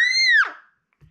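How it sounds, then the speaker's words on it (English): A child lets out one short, shrill scream that rises, holds and then drops off sharply, loud and close, followed by near silence. "Stop screaming, or I'm gonna"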